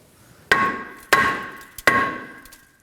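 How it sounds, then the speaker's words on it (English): Three sharp metallic hammer blows ring out at even intervals as the rear brake rotor of a 2016–2020 Kia Sorento is tapped loose from the hub, each strike leaving a bright ringing decay. "we're going to go ahead and tap around this area to break it loose from the hub"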